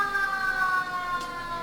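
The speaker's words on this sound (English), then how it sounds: "It sounded like an ambulance siren" A steady, wailing siren tone marks the start of a Koshien high school baseball game in Japan, holding across the clip, sounding somewhat distant against a hum of background noise.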